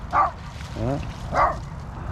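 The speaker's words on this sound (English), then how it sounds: "Here comes the dog coming back in with the ball in the mouth." A dog brings a ball back in during an outdoor walk on a small-town main street, giving two short, close yips or barks about a second apart, with a whiny vocal sound between them.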